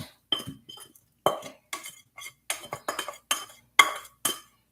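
Scraping something out of a pan or sheet with a utensil in a kitchen, a series of short, separate clinks and scrapes of metal on cookware in irregular bursts, close and moderately loud with no talking.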